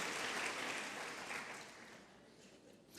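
A church congregation applauds in a soft, dense wash of clapping that fades gradually, heard faint and distant, with no speech over it.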